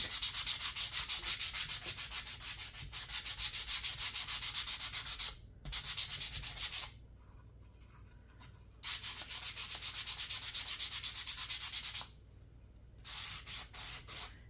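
Rhythmic, scratchy sanding strokes on painted wood rasp back and forth up close, pausing briefly a few times before starting again.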